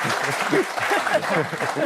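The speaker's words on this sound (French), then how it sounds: "on peut applaudir notre sélectionneur" Studio audience applauding on a French football talk show, a short burst of clapping that carries through with voices talking over it.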